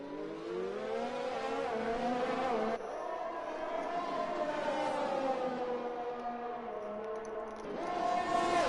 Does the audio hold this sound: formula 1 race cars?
yes